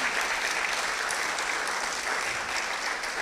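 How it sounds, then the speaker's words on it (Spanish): Church congregation clapping together, a dense, even roll of applause filling the hall, loud and sustained throughout. "dale un aplauso al Señor"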